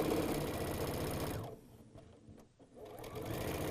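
Sewing machine stitching a quilt block seam, a fast steady mechanical whir that briefly slows and pauses before running again at full speed.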